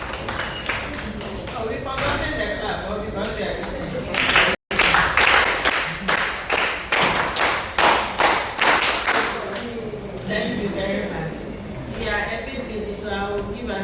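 A training-day group claps together in a burst of overlapping hand claps, moderately close, rising to a dense patter and then thinning, with talking before and after.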